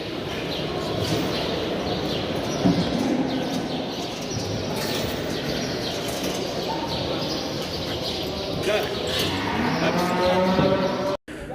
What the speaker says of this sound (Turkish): kısır bir inek var burada